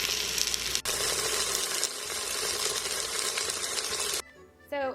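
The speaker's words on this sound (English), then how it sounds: "Now you don't have to use the Instant Pot to brown your meat." Beef browning on the saute setting of an Instant Pot pressure cooker for stew, a steady loud sizzle that runs for about four seconds, then cuts out to quieter clatter near the end.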